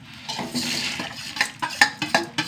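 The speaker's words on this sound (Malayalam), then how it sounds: "ഒരു ഒന്നര ടീസ്പൂണ് ഉഴുന്ന് പരിപ്പ് ഒരു അര ടീസ്പൂണ് ഉലുവ ഒരു അര ടീസ്പൂണ് ജീരകം നല്ല ജീരകം ഒരു അഞ്ചാറ് വറ്റൽമുളകും ഇതെല്ലാം കൂടി വറക്കട്ടെ" Urad dal, fenugreek seeds, cumin and dried red chillies being dry-roasted in a pan: soft scraping stirs give way to a run of sharp metallic clinks and taps of a spoon against the pan, fairly close and quiet.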